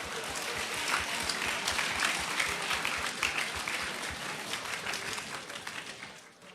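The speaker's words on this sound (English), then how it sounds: "So big round of applause to those guys that are still standing." Audience applause in a conference hall after a cybersecurity presentation, a dense steady wash of many hands clapping that slowly thins toward the end.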